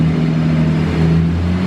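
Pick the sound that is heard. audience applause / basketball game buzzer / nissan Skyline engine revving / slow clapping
nissan Skyline engine revving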